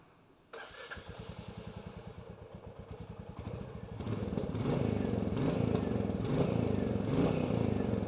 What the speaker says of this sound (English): This has a really like very sweet exhaust note.